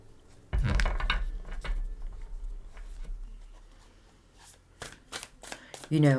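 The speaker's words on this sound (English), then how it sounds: "let's get the rest of the cards out" Tarot cards being shuffled and drawn during a psychic reading: a papery riffle and patter of cards close by, with a few soft taps and flicks afterward, and a voice talking over part of it.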